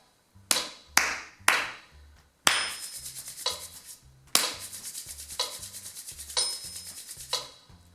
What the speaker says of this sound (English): Let me clap this for you and see if you can figure out the rhythm